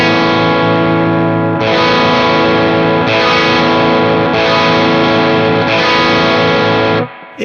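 Electric guitar strummed through a MESA/Boogie Mark IIC+ amplifier, loud distorted chords rung out several times in a row with long sustain, ending with a sudden cutoff, no talking.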